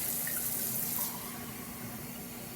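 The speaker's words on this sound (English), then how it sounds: "now I'm gonna run my cold water" Cold water from a kitchen tap runs steadily into a pot being filled with about five cups for making applesauce, a continuous close hiss that eases slightly partway through.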